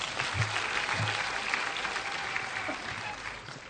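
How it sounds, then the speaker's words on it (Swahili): A crowd at a public gathering claps for the president with steady, fairly soft applause heard from some distance, tapering off slightly at the end. "Tupigie rais makofi tena."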